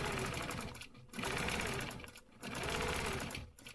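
Bursts of rapid sewing machine stitching run back and forth along quilt lines in a stencil quilting project, loud and close, separated by short pauses.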